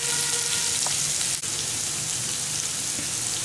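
Onions with dried red chillies sauté in a pan for gongura potato fry, giving a loud, steady, close hiss of sizzling oil throughout.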